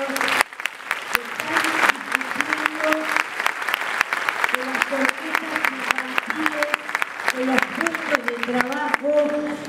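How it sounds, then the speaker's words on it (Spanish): Crowd at a teachers' union meeting applauds orchestra members, sustained rhythmic clapping for several seconds, with voices and cheers mixed in beneath it. "Yo pido un nuevo aplauso porque son compañeros."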